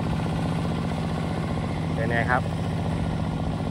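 An 18 hp NewTech BL1 Ultra tractor engine runs steadily at low revs, a continuous droning hum with a throbbing low rumble throughout, while someone speaks briefly over it.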